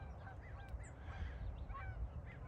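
Geese honking outdoors, several faint, brief calls scattered over a quiet background, with no talk during the calls.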